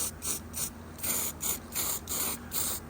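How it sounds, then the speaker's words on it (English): Weld-through primer sprayed from an aerosol can onto bare car-body metal during a T-top conversion on a fourth-generation F-body, heard as a series of short, evenly spaced hissing bursts with brief pauses between them. "I'm gonna cover this all up with weld through primer because we will never see it again"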